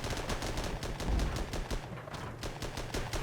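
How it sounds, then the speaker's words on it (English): Tank cannon fire from a 3-pounder gun in the WWII tank game Armored Battle Crew, heavy repeated booming reports with rumbling low end, dense and continuous over the whole stretch with no talk. "3-pounder is starting to fire"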